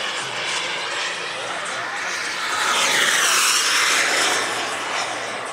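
A model jet aircraft flies over the Czech Heaven airfield near Ivančice at a jet airshow, a steady broad whooshing roar that swells as it passes close, with voices talking underneath.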